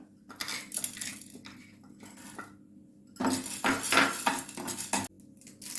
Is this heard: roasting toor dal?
yes